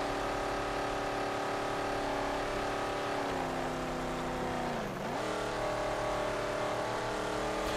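A car in the video game Mad Max drives with a steady, droning engine that dips briefly in pitch midway, then resumes its constant hum with no talking.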